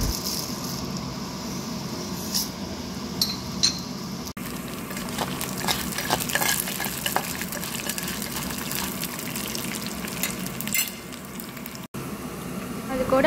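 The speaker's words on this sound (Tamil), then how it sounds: "அதில் தனியா, கடலைப்பருப்பு இதை சேர்த்து பொன்னிறமாக வர வரைக்கும் வறுத்துக்கோங்க" Coriander seeds and chana dal frying in oil in a kadai, giving a steady close sizzle and crackle that runs throughout without pause.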